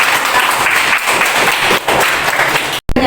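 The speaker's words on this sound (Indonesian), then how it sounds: "Kasih tepuk tangan dulu." A classroom of students bursts into loud, dense applause, continuous clapping filling the room before cutting off abruptly near the end.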